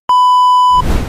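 A pressure cooker on a home kitchen stove, cooking pasta, lets out one loud, steady, pure whistle for under a second, then cuts off into a rumbly burst of venting steam.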